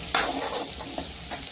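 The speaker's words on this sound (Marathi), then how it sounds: "आणि मस्तपैकी त्यांना हलवून घ्यायचं, मस्त लाल होईपर्यंत त्यांना हे करायचं" Garlic cloves, with onion and chili, fry in a pan while being stirred, producing a steady close sizzle with a sharp scrape at the start and soft stirring knocks after it.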